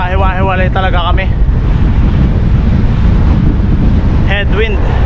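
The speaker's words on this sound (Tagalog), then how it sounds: "Headwind." A heavy headwind buffets the microphone of a cyclist on a long-distance road ride in Taiwan, loud steady rumbling throughout, with someone talking over it at the start and briefly near the end.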